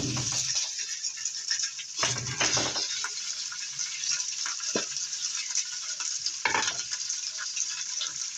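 Cooked rice fries in a hot pan with a continuous loud sizzle, broken by a few bursts of stirring and scraping as it is tossed.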